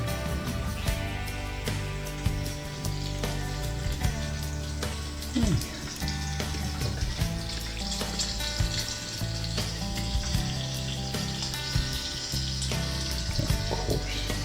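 Butter sizzles and crackles steadily on a well-seasoned Blackstone griddle, close and continuous, with occasional clinks and light scraping.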